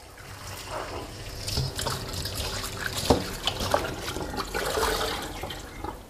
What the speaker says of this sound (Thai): นำมาล้างน้ำให้สะอาดครับ